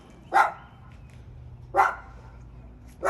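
Dogs barking from a fenced yard outside a house: three single barks spaced over a couple of seconds, moderately distant, with quiet outdoor background between them.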